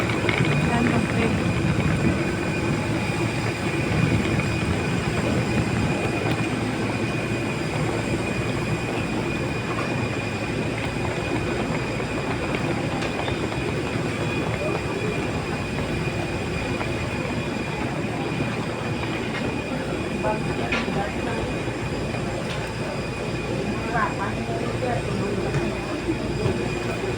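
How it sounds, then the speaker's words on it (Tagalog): A train rumbles past continuously with wheel squeal and a steady roar, heard from nearby, and voices talk over it. "Yan ang train."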